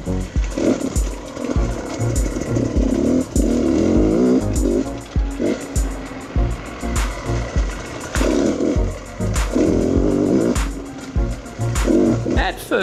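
A dirt bike rides an enduro single-track trail in northern British Columbia, its engine revving and bogging in constant loud surges, with clattering knocks and bumps from the rough ground throughout.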